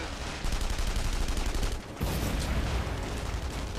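Sustained gunfire in The Saboteur crackles in dense, loud bursts with a brief lull just before the two-second mark, then the barrage resumes; no distinct grenade blast stands out and no voices are heard.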